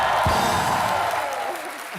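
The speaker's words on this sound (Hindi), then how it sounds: "सोनाक्षी के लिए जोरदार तालियां होनी चाहिए पहले तो।" A comedy show studio audience applauds loudly for an actress, a dense wash of clapping and crowd noise that fades slightly toward the end.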